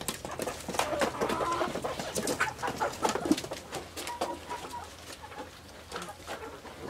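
Backyard laying hens cluck in a steady, faint, scattered chatter, with irregular short calls overlapping across the yard.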